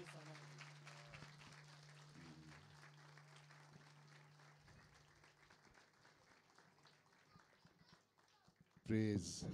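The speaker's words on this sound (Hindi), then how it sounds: "खुदा के जलाल के लिए जोरदार तालियां बजाएंगे" A church congregation at a New Year night sermon applauds heartily in a sustained, dense wash of clapping with voices mixed in, ending in a sudden louder burst.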